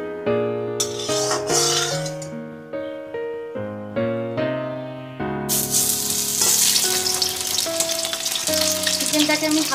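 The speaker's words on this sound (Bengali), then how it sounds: "চিকেনটাকে আমি হালকা করে ফ্রাই করে নেব।" Chicken frying in mustard oil in a hot wok, a loud close sizzle that swells into a bright, continuous crackle partway through, with stirring under a background of tonal music.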